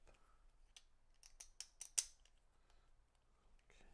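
A deck of cards from the board game Too Many Bones is shuffled in a few quick riffle bursts that rise to a sharp flurry near the middle. The sound is close and faint against a quiet room, with no talking.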